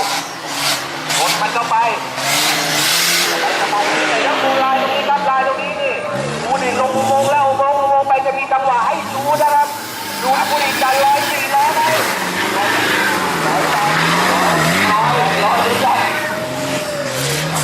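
A standard-class 4x4 off-road truck races in the 2012 Thailand Off Road Trophy, its engine revving and roaring steadily throughout beneath continuous excited commentary.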